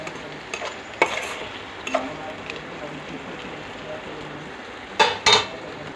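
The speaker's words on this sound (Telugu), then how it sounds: "టెన్ మినిట్స్ దాకా ఆనియన్స్ వేగుతాయండి" Onions fry quietly in a pan for egg curry, a soft low sizzle beneath a few sharp clinks and taps of a utensil against the pan.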